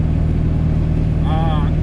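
A Ford Powerstroke diesel truck fitted with a KC turbo climbs a steep hill, its loud, steady engine drone filling the whole stretch, with a brief rising whine near the end.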